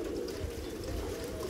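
Pigeons, including crested pigeons, cooing close by in a steady low murmur, with a continuous soft rumble of birds underneath and no talking.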